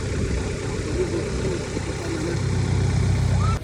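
A steady low tractor engine idle rumbles continuously, close and fairly loud, with wind noise over it and no talking.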